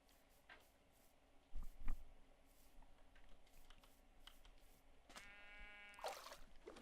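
Keyboard clicks tap intermittently, then a single bleat from a Minecraft sheep sounds near the end, quiet and close.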